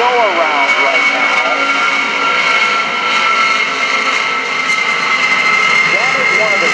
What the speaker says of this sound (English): That is one of the greatest sounds of any airplane, any place. That's the big C-5 Galaxy aircraft.